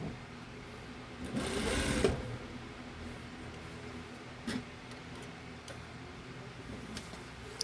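Sewing machine stitching a blazer handkerchief pocket in a brief loud burst of about a second, followed by quiet small ticks and clicks of handling.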